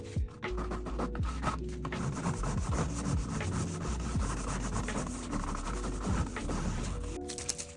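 Sandpaper rubs briskly over a mid-century wooden dresser after chemical stripping, a continuous close scratchy rasp with rapid back-and-forth strokes, fairly loud and steady throughout.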